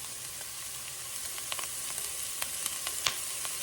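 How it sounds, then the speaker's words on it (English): Onions and peppers sizzle steadily in a pan, a soft continuous frying hiss with scattered small pops and crackles, quiet and without talk. "while my onions and peppers are cooking in there"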